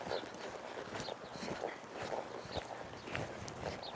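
A ridden horse lopes in circles, its hoofbeats landing in a steady rolling rhythm, fairly faint and continuous throughout.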